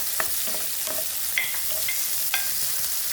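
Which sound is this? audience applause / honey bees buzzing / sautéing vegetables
sautéing vegetables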